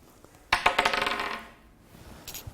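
Dice tossed onto a hard surface make a quick clattering rattle of bounces lasting about a second, then a couple of soft taps as they settle.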